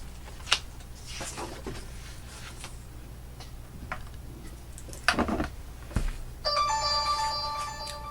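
A mobile phone ringtone plays near the end as a steady electronic ringing pattern, preceded by scattered knocks and clicks of paper crafting on a table, moderately loud and close with no speech.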